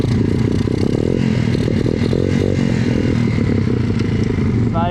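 A pit bike engine runs loud and close in deep snow in a forest, putting out a rough, uneven drone at low revs, with a voice briefly heard at the end.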